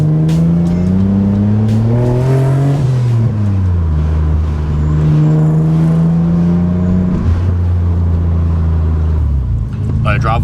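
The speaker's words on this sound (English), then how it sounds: "Let's give this car the test and see how it goes going up a driveway being as low as it is now." A lowered Nissan Skyline R33 idles and pulls slowly up a driveway, its engine drone loud and steady with a gear change and shifting pitch, while people talk over it.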